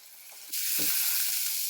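Tomato and onion frying in a pan, a steady close sizzle that jumps louder partway through and then holds as a broad hiss, with no voices.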